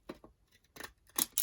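Cheap scissors snipping through lace trim on a handmade Christmas journal, four or five quick close crisp cuts with short pauses between them.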